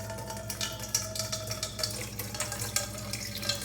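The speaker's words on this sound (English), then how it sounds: "I'm going to remove the plug here and allow the water to drain." Water from an LG front-load washer draining through its drain hose into a bowl, a steady trickling splash with light pulsing gurgles, close and moderately quiet.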